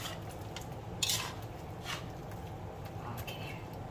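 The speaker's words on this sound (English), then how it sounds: "And then we mix. Mixing." Scallions being stirred into a dish in a pan, with soft clinks of a utensil against the cookware and a brief louder scrape near the start, over a steady low background with no talking.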